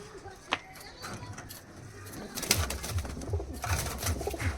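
Teddy and golden pigeons cooing in a loft, soft repeated low coos that grow denser toward the end, with someone talking over them.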